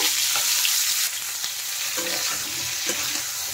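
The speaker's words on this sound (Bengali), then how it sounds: "এখন আমি মাছ ভাজা তেলে দিয়ে দিচ্ছি ফুলকপি। ফুলকপিগুলো একটু ভেজে নেব।" Cauliflower pieces fry in oil left over from frying fish, a loud steady sizzle close by with a few stirring scrapes and clicks.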